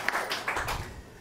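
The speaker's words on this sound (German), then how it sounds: "das ist der Applaus für Fabius Pauli" Brief applause at a public citizens' discussion event, a short burst of scattered hand claps fading out within about a second.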